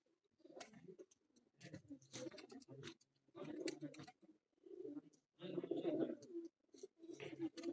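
Sialkoti pearl-eyed pigeons on a rooftop coo in soft, repeated low bursts at close range, each call lasting under a second with short pauses between.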